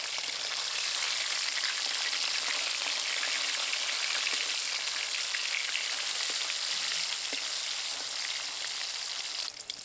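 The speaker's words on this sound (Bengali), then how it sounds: "একটা দিক হালকা করে ভেজে নিয়েছি, উল্টে দিয়ে অন্য দিকটাও ভেজে নেব" Hilsa fish frying lightly in hot oil, a steady, loud, dense sizzle with crackling pops that runs unbroken for about ten seconds, with no talking.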